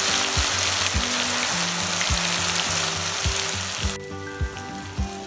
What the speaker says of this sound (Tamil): எண்ணெய் காஞ்சதும் மேரினேட் பண்ணி எடுத்து வச்சுட்டு சிக்கன் பீஸஸை இதில் சேர்த்துடலாம்.